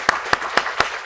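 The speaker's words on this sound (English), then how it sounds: "Please help me to give Ankit a warm round of applause." Applause after a talk at a book event on nuclear weapons: four sharp, evenly spaced claps ring out close and loud over a light room background.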